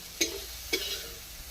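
Onions frying in a pan during home cooking of Bengali village-style dishes: a soft sizzle in the background, with two sharp clinks or stirring knocks close by. No one speaks.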